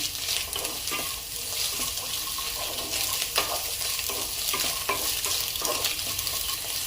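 Chopped carrot stir-fried over a high flame for restaurant-style egg fried rice, a steady close sizzle with repeated scraping and stirring strokes of the spatula against the pan.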